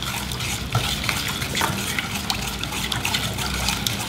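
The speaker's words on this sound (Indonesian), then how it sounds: "Kita aduk-aduk sampai gula merahnya larut dan ini airnya mengental." Stirring a mixture of tapioca flour, palm sugar and water in a pot, a continuous close wet swishing and scraping with soft bubbling and no talk.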